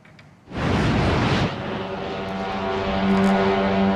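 Iranian Revolutionary Guard military drones launch with a sudden loud roaring whoosh, which settles into a steady, droning propeller-engine hum that holds strong and close.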